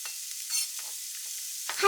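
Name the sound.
ground meat frying in a pan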